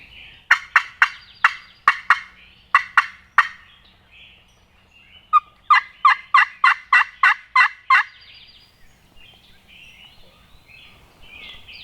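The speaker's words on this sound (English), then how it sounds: "That was a weak gobble." A wild turkey gobbling in two bursts of rapid, rattling calls, moderately distant and clear against a quiet outdoor background.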